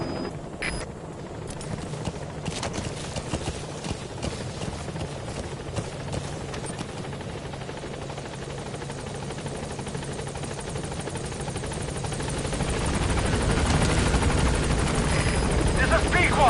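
The Pequod helicopter in Metal Gear Solid 5 thrums with a continuous rotor chop that grows louder toward the end as it arrives, with game ambience and radio voices underneath.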